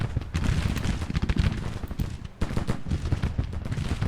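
Massed Civil War troops firing in a strategy battle game, a dense, continuous crackle of rifle volleys with scattered heavier booms, loud and busy throughout with no talk.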